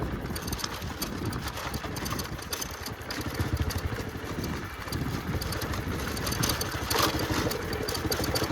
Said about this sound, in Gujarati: વાડીએ લઈને જઈએ છીએ ઘોડીને